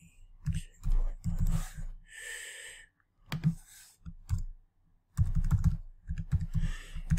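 Keys on a computer keyboard click in short bursts as a password is typed on a crypto trading platform, with breaths and quiet sighs between the taps.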